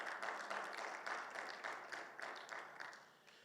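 A congregation at a Spanish-language Bible seminar claps in steady, dense applause that stays faint and distant and slowly fades over a few seconds.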